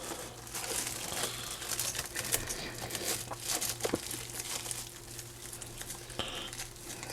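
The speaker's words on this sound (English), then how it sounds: "we're going to roll it away from us using the plastic wrap" Plastic wrap crinkles and rustles as a stuffed meatloaf is rolled up by hand, the crackling steady and close throughout with a few sharper crinkles, no talking.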